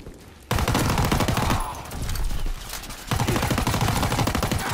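Rapid automatic gunfire from a gun in Call of Duty WW2, sustained, loud and close, with a brief dip before the rattling bursts resume.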